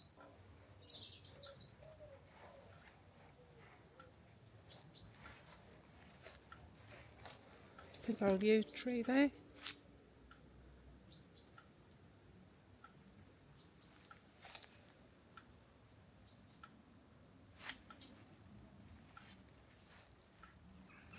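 Faint bird chirps and short tweets sound sporadically from distant trees by the graveyard of St James's Church, Ashurst, with someone briefly speaking partway through.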